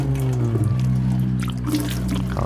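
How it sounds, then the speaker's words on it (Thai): Running water splashes continuously while someone washes their face, after chili paste got into the eyes during cooking; steady close trickle and pour over a low background hum, no speech. "ล้างหน้าเนาะ"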